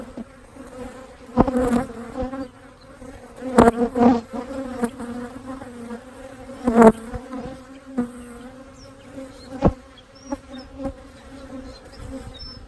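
Honeybees buzzing around an open brood frame pulled from a single brood chamber hive during a split, a dense, steady close-range hum with louder swells as bees pass near, no talking.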